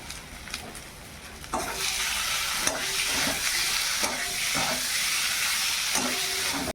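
Potatoes sauté with spices in a hot pan, a steady loud sizzle of frying oil broken by several regular scraping stirs of a spatula.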